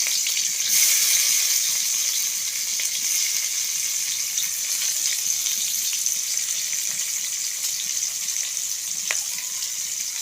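Garlic, chopped onion and tomato frying in a pan, a steady loud sizzle and crackle heard close throughout, with a faint stirring scrape.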